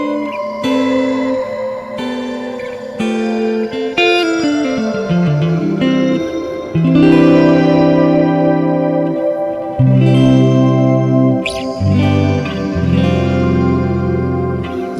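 Clean electric guitar notes ring out through a lush, shimmering Plateaux reverb on a Line 6 Helix, with pitch-shifted higher octave tones blooming and sustaining behind each chord.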